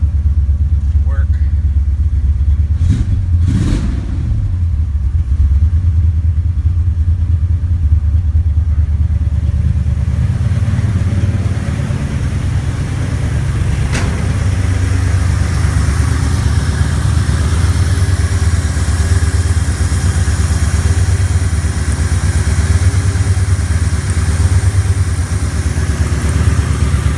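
A 1986 Chevrolet El Camino on its regular exhaust idles steadily for a long stretch, a loud, low, even rumble with a few brief clatters early on.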